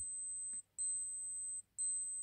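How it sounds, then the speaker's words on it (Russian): An analog clock's built-in alarm beeps in two long high-pitched bursts separated by a short pause, fairly faint and thin, with no talking. "Вот и сработал наш будильник."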